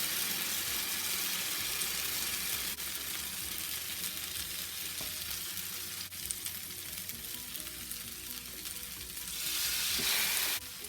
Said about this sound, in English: I'm going to take it out of the custard and put it onto the hot griddle.